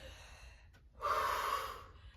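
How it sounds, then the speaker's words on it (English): A person exercising at a beginner home workout takes a heavy breath, a faint inhale followed by a loud, drawn-out breathy exhale close to the microphone. "doing some heavy breathing in"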